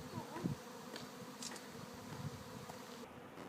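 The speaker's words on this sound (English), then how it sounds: "Bees looking for a new home." A swarm of bees searching for a new home near a school hums in a continuous low drone, several insects buzzing close by at moderate loudness, with no talking.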